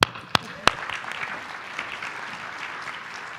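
Conference audience at the ASIFMA Tech & Ops Conference 2023 applauds two speakers: a few sharp, close claps open, then a sustained, moderately loud spread of clapping that gradually thins out.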